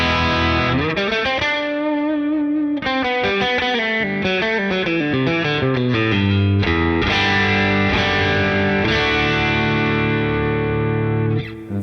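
A Squier Classic Vibe Stratocaster-style electric guitar on the middle pickup plays a flowing chord progression with a slightly hollow, chimey distorted tone, loud and up front, ending on a ringing chord.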